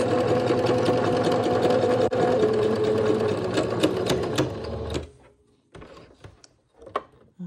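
A sewing machine stitches fabric along a marked line while shirring with elastic, a close, steady mechanical whir for about five seconds that then stops, followed by a few scattered clicks and handling sounds.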